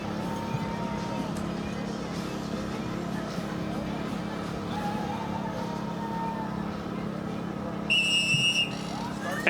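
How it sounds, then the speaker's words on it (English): A short shrill whistle blast starts a criterium bike race near the end, over a murmuring outdoor crowd and distant traffic. "We'll go with this whistle."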